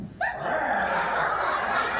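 A voice growls and snarls in imitation of a vicious dog, one drawn-out rough bark-like sound close to the microphone.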